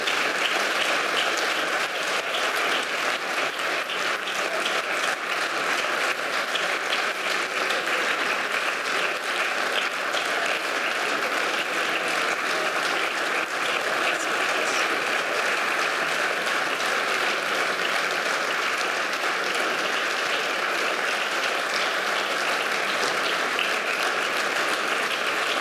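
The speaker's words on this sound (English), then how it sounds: "This is your applause." Sustained audience applause fills a stage event as startup teams gather on stage at a demo day, a dense, even wash of clapping from a large crowd lasting throughout without pause.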